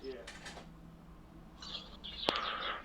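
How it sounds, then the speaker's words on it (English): Birds chirping outdoors, a few short bright calls scattered faintly in the background over low steady room noise, with one sharp click near the end; no talking. "Man, these birds"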